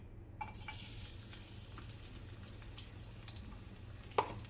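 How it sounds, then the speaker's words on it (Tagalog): Garlic sautés in a pan with a soft, steady sizzle and occasional light stirring scrapes, fairly quiet and close, with no voices. "Tapos, same pan, mag-saute na tayo ng garlic."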